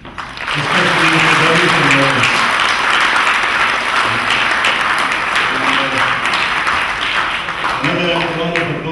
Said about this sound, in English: I'd like everybody to give a big round of applause to the organizing committee.